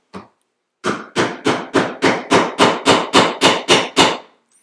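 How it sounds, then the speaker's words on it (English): A hammer taps a rivet cap to set snap hardware: one light tap, a brief pause, then about eleven sharp, evenly spaced blows, loud and close, with no talking. "So I'm going to give it a few more taps."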